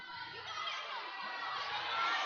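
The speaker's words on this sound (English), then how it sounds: "The crowd loves it because that looked very close." A crowd at a provincial climbing competition final cheers and shouts faintly in the distance, the noise swelling slightly toward the end.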